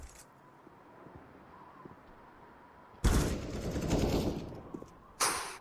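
A quick exchange of gunfire in a Counter-Strike match on the Nuke map, with a sudden loud burst of shots after quiet ambience and a second sharp burst near the end.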